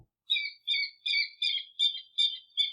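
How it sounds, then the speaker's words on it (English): Guam rail, the flightless ko'ko' bird of Guam, calling in a series of about seven evenly spaced, high, harsh double-toned notes, clear and fairly loud against a quiet background. "This is an audio of the cocoa bird."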